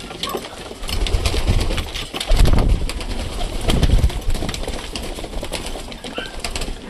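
Pigeons feed in a loft on a cold day, with close wing flaps, shuffling and soft coos over a busy bed of pecking and rustling that swells midway, with no talk.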